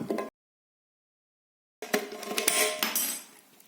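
Pruning shears cut into a metal can for a camping stove: a short scrape, a pause of silence, then a close burst of crunching, grinding metal that tapers off.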